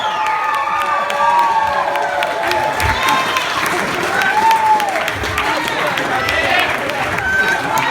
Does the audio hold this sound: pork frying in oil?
no